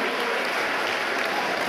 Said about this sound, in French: Et je vous demanderai d'applaudir monsieur le ministre.